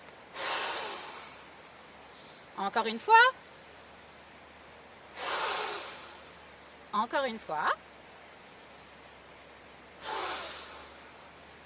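Three long, breathy blows imitating wind during a children's yoga session, spaced a few seconds apart, with short spoken phrases between them.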